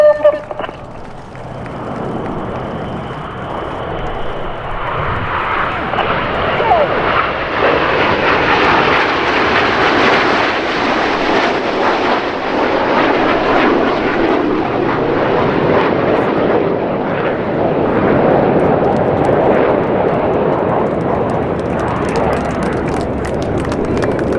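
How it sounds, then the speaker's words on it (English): RAF Red Arrows Hawk jets flying coordinated formation rolls over EAA AirVenture Oshkosh, a sustained jet roar that swells and holds for over twenty seconds as the formation passes, with a commentator talking over it. "the aircraft are going to fly coordinated rolls from the inside to the outside of the formation"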